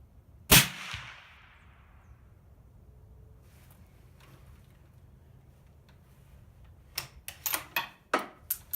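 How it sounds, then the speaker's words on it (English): A Remington 700 .308 rifle fires a single loud suppressed shot through a Rugged Surge suppressor in long configuration, with a sharp crack and short decaying tail, followed later by several quieter clicks and knocks of handling. "up next is a Remington 700. This is 308. We're going to shoot the Surge in the long configuration."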